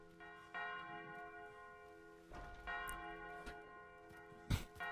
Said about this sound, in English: Is it just me, or can I hear a double bell?